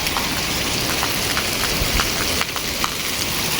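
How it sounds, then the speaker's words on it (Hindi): Steady rain pours onto a house rooftop terrace, a dense continuous hiss with scattered nearby drips and taps, loud and close with no voices over it. "ऊपर आके इतनी नहीं लग रही बारिश,"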